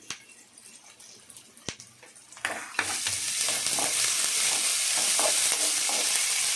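Onion, garlic, curry leaves and green chillies sauté in a pan, a few scattered stirring knocks giving way to a loud, steady sizzle of frying that builds and holds close up.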